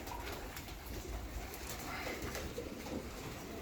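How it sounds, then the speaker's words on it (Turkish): Pigeons cooing inside a coop on a rooftop loft, soft low coos heard faintly over a busy background murmur, with a brief voice present nearby. "Evet kuşlar var."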